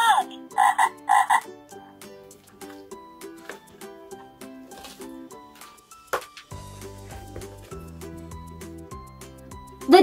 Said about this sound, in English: Ribbit, ribbit, Frog.